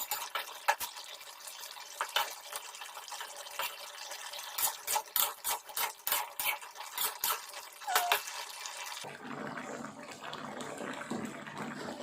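Water pours into a pot for cooking potatoes with a steady, close splashing rush. Pulsing gurgles run through it, then it settles into a smoother, fuller flow near the end. No voices are heard.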